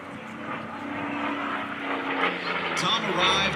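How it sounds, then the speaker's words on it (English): A P-40 warbird fighter passes across the field at an air show, its propeller engine droning in a steady, swelling hum as it draws closer, while an announcer talks over it. "Now back across the field from the right. Now the P-40, American Dream,"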